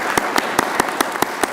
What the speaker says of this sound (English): But let's give them another round of applause.